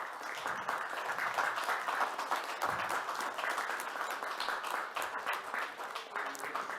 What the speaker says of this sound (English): please let us give a warm round of applause to each other